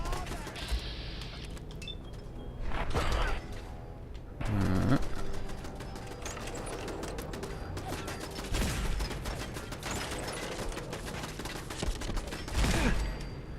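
Grenade launcher blasts and rapid gunfire from a Fallout 4 firefight against raiders, several sharp bursts spread across the span with mechanical clatter, a voice speaking over parts of it.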